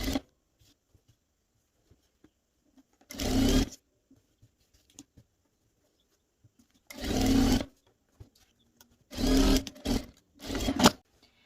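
Sewing machine stitching elastic onto the edge of cotton fabric for a child's bodysuit, in four short whirring runs separated by quiet pauses, close and clear.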